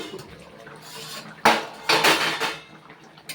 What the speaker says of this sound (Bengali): কিছুক্ষণ পর ঢাকাটা খুলছি।